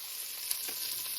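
Onions and green pepper sauté in a pot over a medium flame, giving a soft, even hiss that stays faint and steady, with one small tap.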